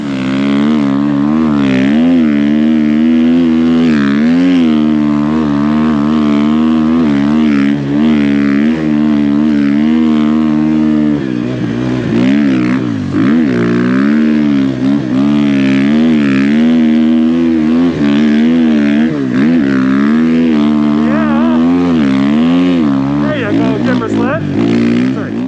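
Timbersled Aero 3 snow bike on a CMX 129 revs hard and continuously, its engine rising and falling in pitch throughout a loud, sustained ride.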